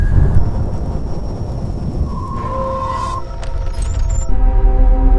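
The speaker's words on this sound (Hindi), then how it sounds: "तूफान थमने का नाम नहीं ले रहा था।" Steady heavy rain and storm rumble fill the background, loud and continuous, with a few thin tonal whistles and a brief low boom layered over the wash of noise; no one speaks.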